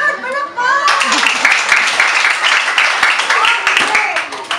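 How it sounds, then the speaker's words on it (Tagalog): A group of children bursts into quick, lively clapping right after a voice, the clapping continuing for several seconds close by with voices chattering over it. "Palakpak!"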